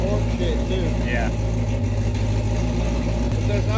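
A Corvette Z06 fitted with upgraded heads, a new cam and a supercharger fast-idles up close, a steady loud low rumble with a slightly lumpy beat, while people talk over it.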